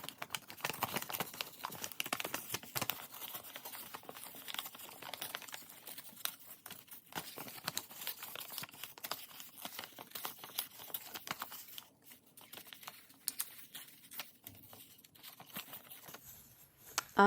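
Paper circles are torn by hand into pieces, producing quiet, close, irregular ripping and crinkling sounds that continue steadily throughout.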